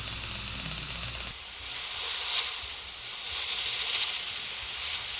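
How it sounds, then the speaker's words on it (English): Iwata Micron airbrush spraying paint onto a walleye crankbait: a brief rapid pulsing burst at first, then a continuous close, steady hiss of air and paint mist. "got a new airbrush, by the way."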